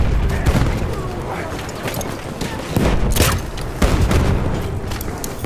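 Dense bursts of machine gun fire and booms from a World War I shooter game at Amiens, loud and close, with several rapid volleys under scattered shouting.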